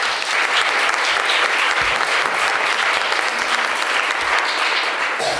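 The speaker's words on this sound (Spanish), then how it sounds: "Por favor, un aplauso." An audience at a book presentation gives sustained, dense applause that stays steady and loud throughout, with a faint murmur of the crowd underneath.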